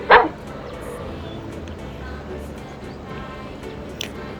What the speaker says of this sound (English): Dog, dog.